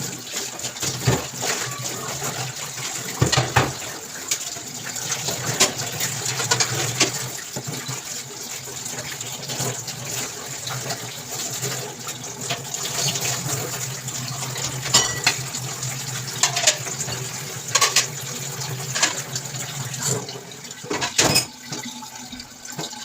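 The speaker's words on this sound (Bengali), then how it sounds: "ধুয়ে পরিষ্কার করে আমি এখন এগুলো রেখে দিব।" Tap water runs steadily into a sink while dishes are rinsed and washed in a home kitchen, with occasional clinks of pots and plates through a continuous gushing stream.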